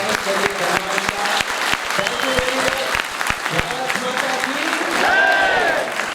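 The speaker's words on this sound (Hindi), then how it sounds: "जोरदार तालियों से स्वागत करें।" A crowd gives loud, sustained applause to welcome a guest at an event honouring Indian Idol winner Salman Ali, with voices and some cheering mixed into the clapping, which swells near the end.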